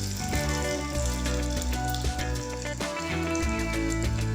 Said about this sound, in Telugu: కాబట్టి అన్నిటినీ కూడా మనం ఇలా నూనెలో వేసి ఫ్రై చేసుకున్నాము